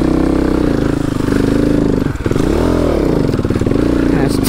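A Kawasaki KLX250S dirt bike's engine, its fuel screw mixture just adjusted, revs loud and close, rising and falling in pitch with a mid-clip dip, while someone speaks over it.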